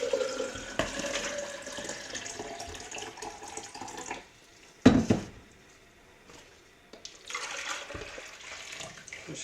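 Liquid poured from a container while developing film, a steady splashing stream at close range that stops midway, followed by a brief louder splash and then more pouring and running water.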